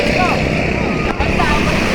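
Tourist boat engine drones loudly during a boat race, a steady motor roar mixed with wind buffeting while people talk over it.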